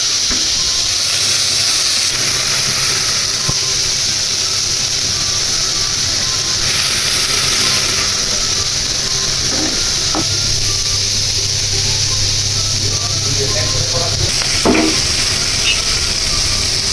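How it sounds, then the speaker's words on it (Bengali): Dried fish fries with onion, tomato and garlic in a pan, a continuous loud sizzle and hiss with occasional stirring scrapes, close and steady throughout. "আমার শুটকি, পেঁয়াজ, টমেটো, রসুন সবগুলো ভাজা হয়ে গেছে।"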